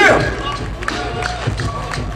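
A crowd at a B-boy event cheers and claps for a performer. The noisy, sustained crowd roar is mixed with scattered clapping and a voice over the top.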